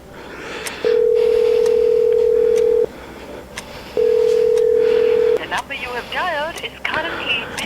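Two long, steady ringback tones sound in a phone earpiece during an unanswered call, each lasting one to two seconds with a gap between, followed by clicks and a brief warbling electronic chirp.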